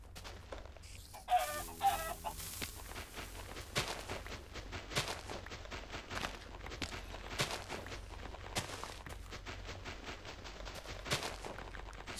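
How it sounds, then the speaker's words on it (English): Chickens cluck in the Minecraft video game, a faint run of short clucks and clicks over a steady low hum, with a couple of louder blips near the start. "Oh my god, you got a chicken."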